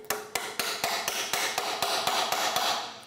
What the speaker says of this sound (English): Hammer it on. It'll grip onto the bolt nice and tight.